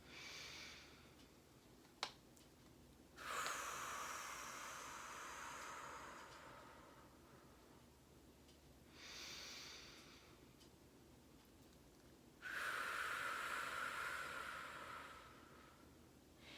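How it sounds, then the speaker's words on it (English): Slow, deep breaths drawn in and let out at an unhurried pace, three long airy swells separated by quiet pauses, close and soft with no talking. "So we're gonna breathe 3 times together. Deep breaths."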